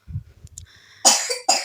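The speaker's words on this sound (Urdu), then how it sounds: "کھانسی آ رہی ہے" A young child who is feeling unwell gives two loud, harsh coughs about half a second apart, close by. Softer murmurs and rustling come just before.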